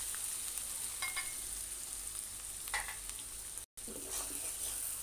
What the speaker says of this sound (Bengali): আমি পেঁয়াজ রসুন আদাটা দিয়ে দিলাম এবার এটা ভালো করে কষিয়ে নেব